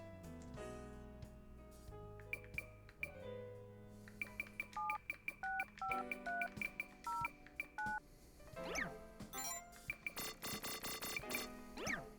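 Phone number being dialed in the video game Monark: a run of distinct electronic touch-tone beeps in quick succession over a soft game music bed, followed by brighter chiming tones, with no talking.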